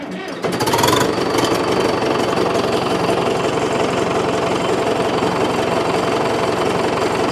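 A Case 830 tractor engine runs steadily after a brief quieter start, a loud, rough, continuous clatter and drone that holds at even volume throughout with no pauses.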